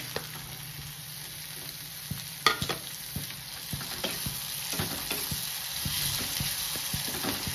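Tomatoes added to browned onion frying in a pan, with a steady close sizzle and a few sharp clatters of a spoon against the pan as they are stirred.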